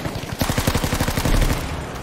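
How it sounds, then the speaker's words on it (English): Rapid automatic gunfire from a Battlefield V soldier shooting blindly through smoke, a loud, close, steady burst of closely spaced shots lasting a couple of seconds with no talk. "I just fired through the smoke then"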